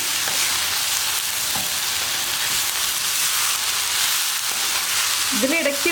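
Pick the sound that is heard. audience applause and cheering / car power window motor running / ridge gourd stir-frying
ridge gourd stir-frying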